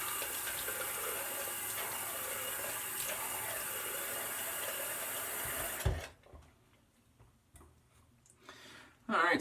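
A bathroom tap runs steadily for a few seconds, loud and close, while the face is wetted before shaving, then shuts off, leaving quiet room sound with faint movement and a brief burst at the end.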